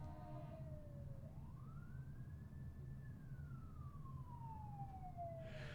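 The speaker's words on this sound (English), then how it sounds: "There's like fire ambulances and police" A distant emergency siren wails, its pitch rising and falling in a slow sweep, heard faintly over low steady background noise.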